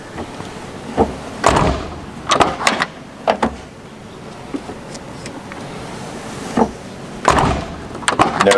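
A 1975 BMW 2002's door is opened and shut several times, each action giving a sharp, close clunk or latch thump separated by quiet gaps.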